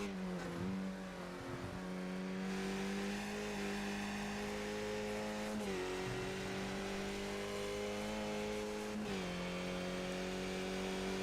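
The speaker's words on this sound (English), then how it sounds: "We have to hear how much lifting and coasting there is for Ian De Vries." Onboard a Spec Racer Ford race car at Okayama, the engine drones loud and close with a steady pitch, dropping sharply at a few gear changes before climbing again under load.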